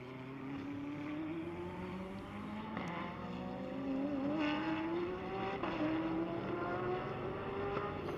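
Porsche GT race car accelerating at Sonoma during a GT World Challenge America race, a sustained engine drone with a rising pitch, moderately distant, with steady track ambience and no talk.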